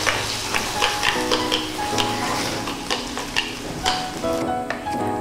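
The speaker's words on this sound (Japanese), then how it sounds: "トマトを炒めます。" Tomatoes stir-fried in a pan for a chilled soba and tomato champuru, a steady sizzle broken by scraping, clacking stirs of a utensil against the pan, close and fairly loud.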